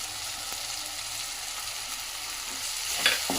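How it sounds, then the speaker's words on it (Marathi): Turmeric, cumin powder and coriander powder being mixed in a hot pan for palak paneer, giving a steady, close sizzle of frying with faint stirring scrapes and a brief louder scrape near the end, no voices. "हळद आणि मसाले यात मिक्स करून घेते."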